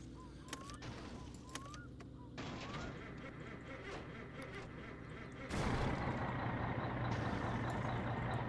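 The truck in My Summer Car cranks with a few sharp clicks and whines, then its engine catches and settles into a steady, louder rumbling idle.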